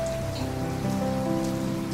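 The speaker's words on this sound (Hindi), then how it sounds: "बारिश काफ़ी तेज़ हो रही थी।" Heavy rain falling steadily on a surface, a dense, even wash of drops that holds at the same loudness throughout with no voices.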